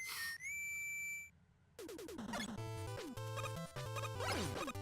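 A whistle sounds in the game Mega Man 9 as a short rising tone with held steady pitches, then after a brief quiet the chiptune music kicks in with busy bass and melody notes.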